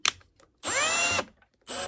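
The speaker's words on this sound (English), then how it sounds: "And get that screwed down into the frame" A power drill driving wood screws into a wooden frame, two whining bursts of the motor rising in pitch as the screw bites, the first about half a second long and the second starting just after, close and alone.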